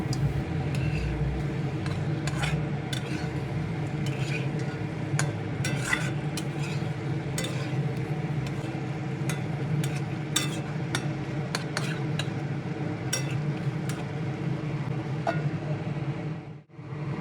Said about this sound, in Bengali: ভেজে রাখা আলু ও কাতলা মাছের টুকরোগুলো দিয়ে আলতো হাতে আবারও ভালোভাবে নেড়ে চেড়ে দিয়ে মিনিট 2-1 মতো সময় ধরে ঢেকে কষিয়ে নেব